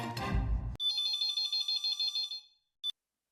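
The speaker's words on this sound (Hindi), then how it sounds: "मैं अभी नट्टू काका को फोन लगाता हूँ" A telephone ringtone plays as a call is placed: a string of clear, evenly spaced electronic pulses repeats for nearly two seconds after a short noisy burst, then one brief tone sounds alone near the end.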